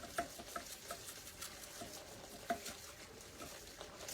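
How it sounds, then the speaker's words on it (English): Grated parmesan cheese shaken over a pan of sautéed zucchini, mushroom, onion and broccoli in broth, giving soft, scattered patters and light ticks over a faint sizzle, close and quiet with no talking. "Now I'm going to shake a little bit of parm"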